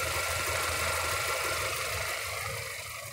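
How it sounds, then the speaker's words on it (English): 2019 GMC Terrain Denali AWD, a repairable salvage SUV, idling with a steady low engine hum and broad hiss, close and constant, easing slightly quieter toward the end with no talking. "You can hear the engine running."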